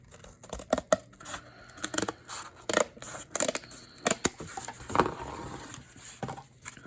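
Scissors snip through corrugated cardboard in a string of short, crisp, close-up cuts with small pauses and some crinkling between them, each snip a sharp dry crunch.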